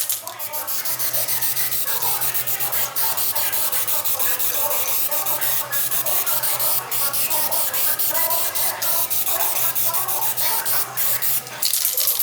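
Aerosol can spraying primer in light misting passes onto the body of a 2012 Chevy Impala during DIY dent repair, giving a close, loud, continuous hiss with small fluctuations.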